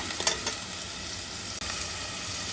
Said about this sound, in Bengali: টমেটোগুলো একটু কষে নিব।